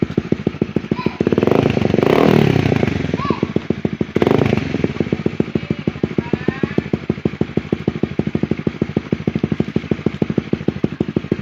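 A motorcycle with a loud Yoshimura R11 twin-outlet aftermarket exhaust idles in a rapid, lumpy pulse, then is revved hard twice in quick bursts before settling back to a throbbing idle.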